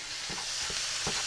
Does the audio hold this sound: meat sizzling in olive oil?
yes